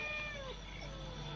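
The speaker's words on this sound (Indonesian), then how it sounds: "Kucing." A cat meows outdoors at night on damp ground near a fishing spot, with faint wavering cries half buried under steady, loud background noise.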